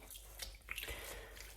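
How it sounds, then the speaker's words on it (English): A crochet garment being lowered into a basin of water, giving a soft, steady watery swish and trickle, faint and close, with no talking. "I'm just gonna submerge it in the water like this"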